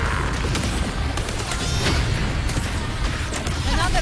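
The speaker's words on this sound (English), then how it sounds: "Another mortar thrown at us." A mortar explosion in the video game Wuthering Waves, heard as dense, loud booming and crackling bursts that run without a break under a continuous wash of game music and effects.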